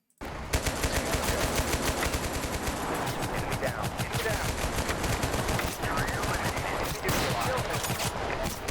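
Dense squad gunfire in the war game Total Conflict Resistance, rapid automatic bursts and overlapping shots rattling almost continuously, loud and close, with brief pauses between volleys.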